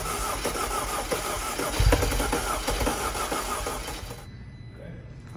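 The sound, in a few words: Audi Q5 engine starting after turbo upgrade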